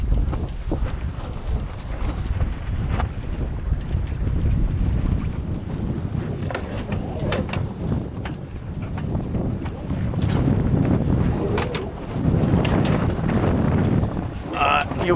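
Strong wind blowing outdoors, buffeting and rumbling loudly against the microphone in gusts, with a person talking over it.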